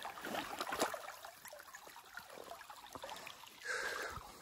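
A mountain stream trickles and splashes over rocks, faint and close, with scattered small splashes and light rustling movement.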